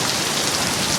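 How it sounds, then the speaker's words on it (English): Rain falls on a Paris street as a dense, even hiss of drops striking the surface, steady and close with no voices. "now it's starting to rain"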